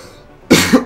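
A short, loud cough close to the mic, a sharp double hack following a quiet moment.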